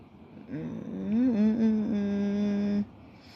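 A person snores once, a single drawn-out, moaning, tonal breath that rises and then holds steady for about two seconds before cutting off, heard close and alone in a quiet room.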